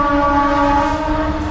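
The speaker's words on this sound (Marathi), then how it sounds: "रेल्वे फारच जवळ आहेत ना" A train sounds its horn as it passes close to the railway line at Shegaon, a loud, steady, sustained blast with a low rumble of the wagons underneath.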